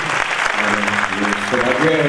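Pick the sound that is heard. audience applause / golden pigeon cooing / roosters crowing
audience applause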